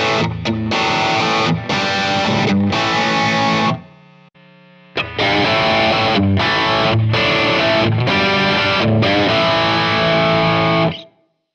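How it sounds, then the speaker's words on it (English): High-gain distorted electric guitar plays through a Strymon Iridium amp and cab modeler, loud chugging riffs and chords that break briefly for a sustained ringing note before the heavy, saturated playing resumes until it cuts off. "Now let's hear some high gain tones through the three different cabinets."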